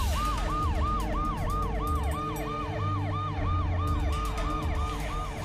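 Police car siren wails in rapid, evenly repeating up-and-down sweeps, fairly loud and steady throughout, with faint traffic rumble underneath and no talking.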